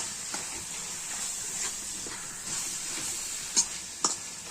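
Tomatoes sauté in oil in a pan for Madurai fish kuzhambu, giving a faint, steady sizzling hiss with a few small pops and spatters near the end.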